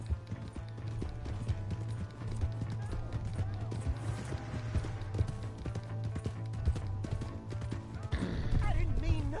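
In a Red Dead Redemption 2-style western game, a stolen horse's hooves clip-clop at a steady trot, moderately loud under constant music and ambience, with a brief change in the sound near the end.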